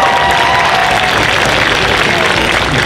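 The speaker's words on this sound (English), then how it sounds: "ladies and gentlemen, round of applause" An audience at a cosplay contest claps steadily in sustained applause, a dense even patter filling the whole moment without pause.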